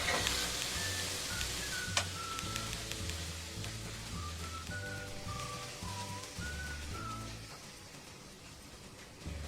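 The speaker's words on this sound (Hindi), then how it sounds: "इसके अंदर लहसुन और अदरक डाल देंगे और इसको 1 मिनट के लिए भूनें" Garlic and ginger fry in a pan for chicken mince cutlets, with a steady hiss of sizzling oil under a whistled melody.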